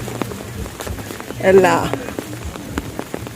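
Heavy rain pouring steadily in Ella, Sri Lanka, a dense continuous hiss on surfaces with a brief swell in the middle, while a voice speaks over it.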